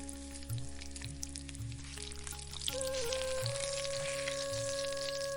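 Ingredients frying in oil for temple-style pulihora, a continuous close sizzle with soft bubbling, carried over a steady background hum and faint tonal whine, with no talking.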